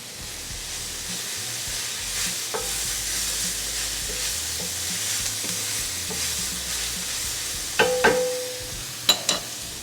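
Red pepper flakes sizzle in a pan for cioppino, a soft, steady frying hiss close by, broken near the end by a few sharp clinks and scrapes of a utensil against the pan.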